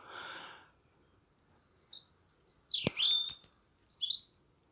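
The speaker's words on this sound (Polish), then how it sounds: "coraz więcej pojawia tu się ptaków i takich dziwnych, różnych ptaków" Assorted wild birds chirp and call in the evening, a lively run of high tweets and trills close by, following a brief burst of broadband rustling noise at the start.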